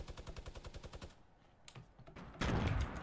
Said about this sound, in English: He's using a minigun, of course, dude.